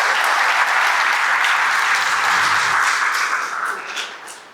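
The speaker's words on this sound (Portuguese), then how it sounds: "Uma salva de palmas para vocês que fizeram uma montanha-russa única." A lecture audience at a Senac event breaks into sustained, close, full applause that holds steady before tapering off toward the end.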